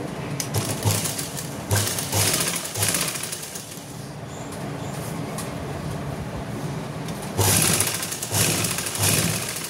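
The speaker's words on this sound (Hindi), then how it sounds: "अब हम यहाँ पे सिलाई लगाएंगे।" A sewing machine stitches a coat collar along the buckram edge, running in bursts of rapid mechanical whirring and clatter with a quieter lull in the middle, close and steady.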